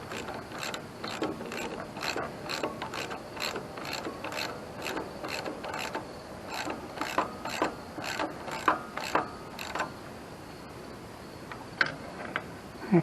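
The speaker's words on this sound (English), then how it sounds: "I'm tightening the bolts up now to the starter." Ratchet tightening the starter bolts on a Wood-Mizer LT40 HD sawmill, with a steady run of close metallic clicks over faint outdoor background noise, thinning out toward the end.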